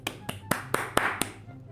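A few sharp claps in a quick, uneven sequence, close up, like a single person applauding briefly.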